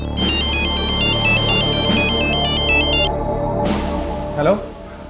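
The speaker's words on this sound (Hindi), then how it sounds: "दूसरे दिन एक और फोन कॉल ने इस सन्नाटे को चीर दिया।" An electronic phone ringtone plays a repeating melodic pattern, pausing and resuming, over a low background hum with a faint voice at the end.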